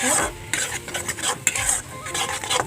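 Fish seasoned with turmeric and salt sizzling as it fries, stirred with a utensil that gives repeated close scrapes and clinks over a continuous hiss, with no talk.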